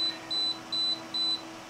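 A meter emits four short, high electronic beeps at an even rhythm, faint and close in an otherwise quiet room.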